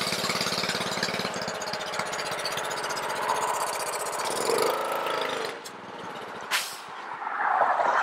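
A Honda-powered Ryobi 3100 PSI pressure washer with a low-idle fault runs close by, a steady small-engine chug that wavers and sags unevenly, dips briefly, then picks back up.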